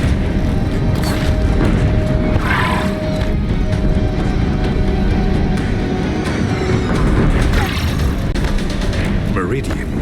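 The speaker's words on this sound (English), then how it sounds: "If the Deathbringers keep firing, this bridge will go." Deathbringer machines in Horizon Zero Dawn fire at a bridge, producing loud booming blasts and mechanical rumbling throughout, with a character speaking over the continuous barrage.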